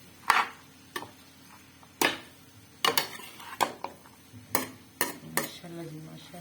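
Metal spoon knocking and scraping against a pot while aloo gobi curry is stirred, a series of sharp, fairly close clinks spaced irregularly over a low background, with faint speech.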